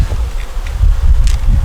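Honey bees around their hive, a low continuous buzzing hum close by with faint rustling and no talk over it.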